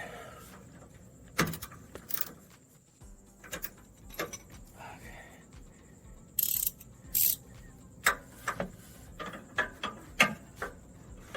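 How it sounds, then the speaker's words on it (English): A socket ratchet tightens a bolt during a Suzuki Samurai restoration, giving repeated close clicking bursts with short pauses in between, over a faint background hum and no clear talking. "I'm gonna go ahead and tighten this guy since I already got the socket on there"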